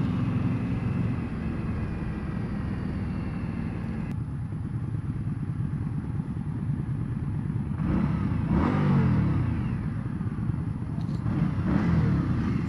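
A 2015 Indian Scout motorcycle engine revving on a test ride, a loud, close, steady drone that rises in pitch with acceleration and swells near the end.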